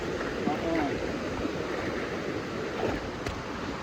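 River water rushes and churns steadily as someone wades across a stream with kelah fish, a continuous broad wash with small splashes, near and fairly loud.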